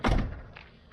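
A door on a 2009–2014 Ford F-150 pickup swings shut with a single solid thunk, close and fairly loud, followed by a brief fading rattle.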